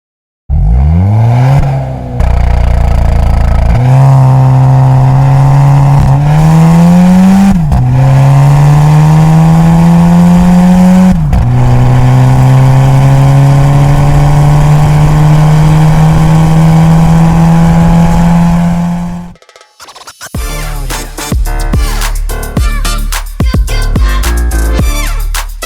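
A Stage 2 tuned VW T-Roc with a 1.5 TSI engine making 230 hp accelerates hard. Loud, close revs climb repeatedly through several gear changes, then cut to a rougher, choppier engine note near the end.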